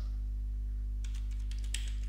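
Quick bursts of keystrokes on a computer keyboard as a file name is typed, soft clicky taps clustered in the second half over a steady low electrical hum.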